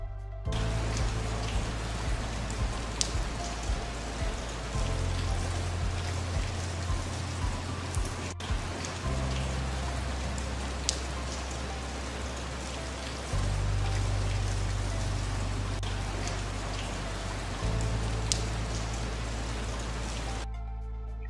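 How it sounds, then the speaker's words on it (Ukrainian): Autumn rain falls steadily, a dense hiss of drops pattering on surfaces with occasional sharper individual plinks, continuous and close with no voices. "Давайте поміркуємо з вами, який він осінній дощ."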